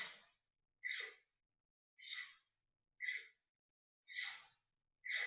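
Slow, rhythmic yoga breathing: five or six long breathy exhales and inhales through the nose, each about half a second, separated by quiet pauses, close and alone with no talking.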